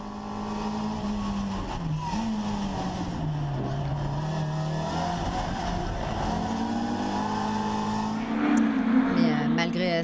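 An Austin Cooper S races at the Ledenon circuit during a historic meeting, its engine droning steadily with shifting pitch, then rising sharply as it revs harder near the end.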